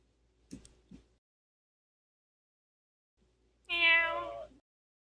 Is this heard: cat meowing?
yes